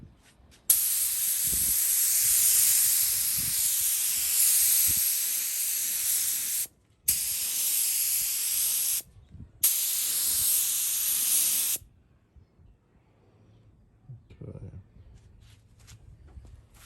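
Candy paint spraying onto a model car body and hood in semi-wet coats: a loud, steady airbrush-style hiss in long bursts with brief pauses, then it stops and quiet handling noises follow.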